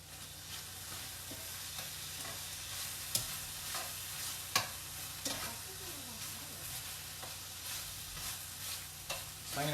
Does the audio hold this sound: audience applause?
no